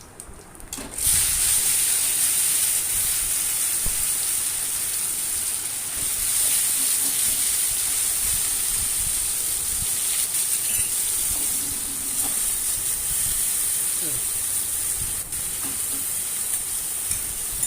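Taro leaves dropped into hot oil over a dry chilli, bay leaf and panch phoron tempering sizzle loudly and steadily, a dense continuous hiss close by with faint stirring knocks and no talk.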